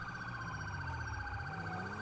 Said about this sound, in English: see the lights, hear the siren, get the hell out of the way